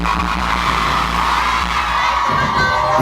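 Crowd cheering and applause at a live freestyle rap show in Seoul, a loud, dense, continuous wash of noise filling the whole stretch with steady intensity.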